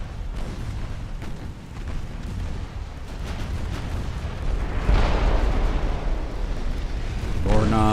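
Naval guns fire on a battleship in Ultimate Admiral: Dreadnoughts, with repeated booming artillery salvos and rumbling blasts over a dense battle din. A heavier burst comes midway, and speech breaks in at the end.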